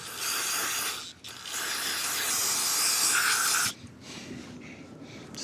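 Cleaner hisses loudly from a spray can into a rusty part of a 1966 Ford wagon, one long steady burst of about two and a half seconds, then a brief pause and a quieter second spray.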